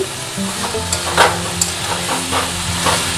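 Mustard stems and potatoes frying in a pan for a Bengali chochchori, a close continuous sizzle with occasional scraping stirs and faint hissing steam, no voices.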